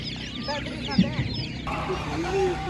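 Laying hens cluck at an outdoor animal market in a busy, close burst of clucks and squawks, with a voice talking alongside them.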